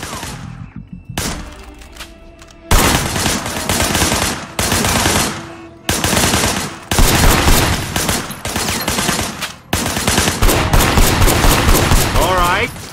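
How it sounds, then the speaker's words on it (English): Gunfire rattles through a shootout in the video game Sleeping Dogs. Loud bursts of automatic fire and single shots come in several clusters separated by brief gaps, with thuds and impacts mixed in, close and punchy. "I want you to put some bullets in a few things."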